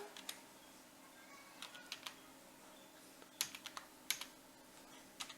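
Keys clack on a computer keyboard while entering text in Excel, with sparse, irregular taps in small bursts at close range over a quiet background.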